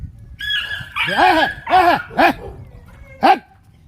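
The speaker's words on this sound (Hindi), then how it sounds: "अभी कुत्ते लड़ रहे थे" Dogs fighting, with a rapid run of harsh, close barks and yelps in several bursts over a low murmur of background voices.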